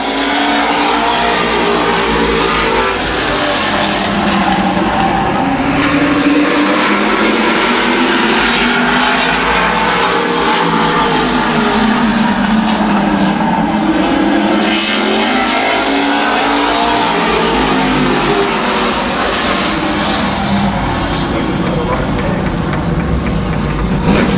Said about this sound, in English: Your winner of the fast heat in the sports stocks tonight, Ron Degg in car 75.